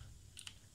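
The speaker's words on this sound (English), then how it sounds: "Now simply type these commands that I'm going to write right here." A few quick keystrokes on a computer keyboard, two crisp clicks close together over a low steady background hum, fairly faint.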